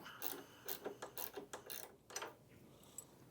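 A 3/16 Allen key turns out a brush lift shoulder bolt on an ATLAS carpet cleaning machine, giving a series of quiet, close metallic ratcheting clicks in short uneven bursts.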